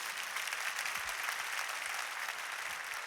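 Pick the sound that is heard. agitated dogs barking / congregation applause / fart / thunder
congregation applause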